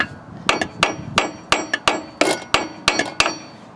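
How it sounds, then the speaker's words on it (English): Sharp metallic hammer blows strike a stuck bolt on a ZZR 600 motorcycle rear brake, roughly a dozen times in quick, slightly uneven succession, loud and close, with no talking. "I've tried beating on it with a hammer"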